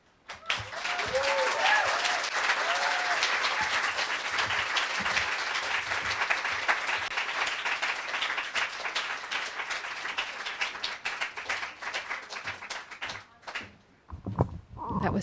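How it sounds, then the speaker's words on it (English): An audience at a poetry reading breaks into sustained applause, a thick continuous patter of many hands that holds steady for about thirteen seconds before tapering off, with brief voices near the end. "Let's give it another round of applause for both of them."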